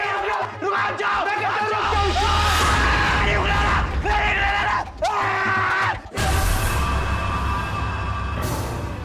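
A man screams and bellows loudly and repeatedly, his anguished yells rising and breaking over a dense, noisy background with brief pauses between outbursts.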